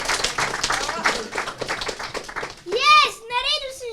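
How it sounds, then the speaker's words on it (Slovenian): Audience applause at a youth improv theatre show, a busy patter of clapping mixed with children's chatter, followed by excited young voices shouting. "Dajmo en aplavz."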